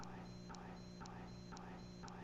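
Annoying electronic beeping during a live guitar lesson stream, a regular pulse of short high tones about every half second, repeating steadily over a dense constant background hum.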